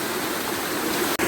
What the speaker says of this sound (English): A couple of waterfalls, maybe about 6 or 7 feet from knee-deep pools.